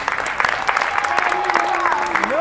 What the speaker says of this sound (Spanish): ¡Fuerte el aplauso! Increíble.